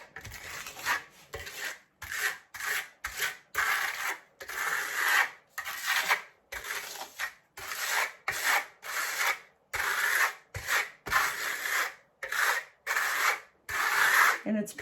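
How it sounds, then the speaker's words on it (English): Steel trowel spreading dark gray tinted Novacolor Marmorino KS lime plaster, a close, steady rasping scrape repeated in short rhythmic strokes with brief pauses between them, no talking. "So I'm going to butter my trowel with this dark gray that I made."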